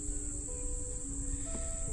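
Honey bees hum from an opened hive being inspected, a steady close buzz with a high constant tone and occasional rising pitches, no speech.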